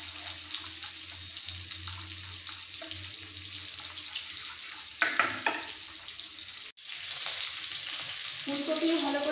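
Cauliflower florets frying in hot oil in a pan, a steady sizzling crackle throughout, with brief scraping and stirring clatter midway and a short cut before the sizzle resumes slightly louder.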